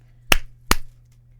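Two sharp, isolated finger snaps about 0.4 seconds apart, crisp and close, over a faint steady hum.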